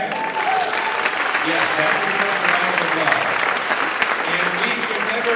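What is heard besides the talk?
audience applause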